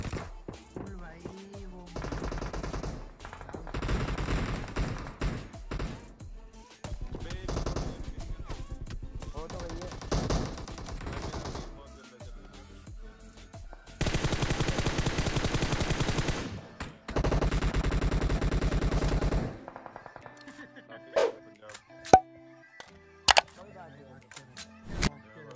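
Gunfire in PUBG played on a phone, bursts of rapid automatic shots and scattered single cracks from the game, with someone talking between the volleys.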